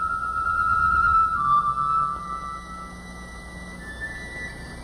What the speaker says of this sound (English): It's the song of the nightingale.